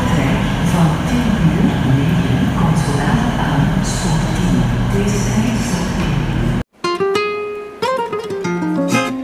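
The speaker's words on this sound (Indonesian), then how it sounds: "Aku akan melanjutkan naik kereta menuju Gendamport." Train at a railway station in Belgia, a loud sustained rumble of rolling wagons with hiss and clatter, then an abrupt cut to a clear multi-tone station chime or announcement melody.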